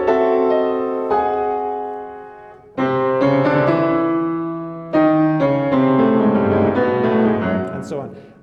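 Solo piano playing a dramatic left-hand cadenza from a Chopin nocturne, sustained chords struck in three separate phrases, each swelling and decaying, with a busier run of notes near the end.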